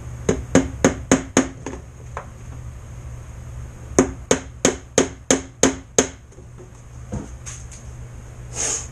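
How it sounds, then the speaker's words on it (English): Rapid series of sharp metallic taps from a tiny hammer driving nail pins while building a Jersey skiff boat kit, two quick bursts of about six strikes each, with a few scattered knocks between. "So I'm using, basically, this hammer, tiny little hammer, and nails, pins,"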